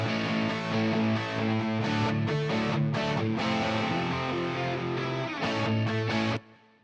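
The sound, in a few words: rock guitars and bass part playing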